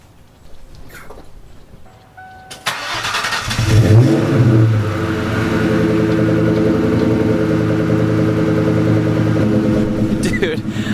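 Cold start of a Ford Mustang Cobra with a Flowmaster 40 Series exhaust: quiet moments, then a sharp crank and catch into a loud, rumbling fast idle that eases to a steady burble, with people talking nearby.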